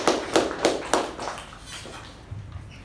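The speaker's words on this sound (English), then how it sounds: "A good round of applause to Toastmaster Jyothi" A small meeting audience claps for Toastmaster Jyothi, a few sharp separate claps at the start that thin out and fade into quiet within about two seconds.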